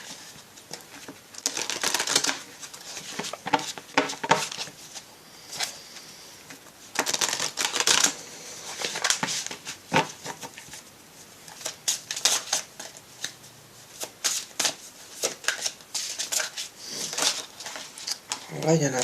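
A deck of mandalas d'énergie oracle cards is shuffled by hand in repeated bursts of crisp riffling and tapping, loud and close, with pauses between bursts.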